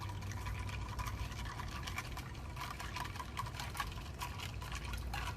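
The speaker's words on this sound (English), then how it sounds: "We're going to use a bar spoon for this to get this good and stirred up." A bar spoon stirs a mint julep over ice, making a continuous close swirl of liquid with soft, rapid clinks of ice against the glass. No one speaks.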